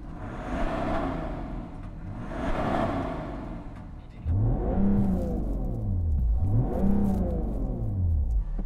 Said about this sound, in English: I want to hear about engine noise. So let's rev up your car.